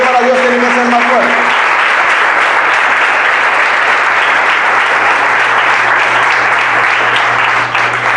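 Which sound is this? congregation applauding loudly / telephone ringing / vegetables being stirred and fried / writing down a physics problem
congregation applauding loudly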